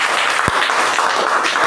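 A short burst of clapping in a children's maths activity, steady and fairly loud across the whole moment, with a single sharp thump partway through.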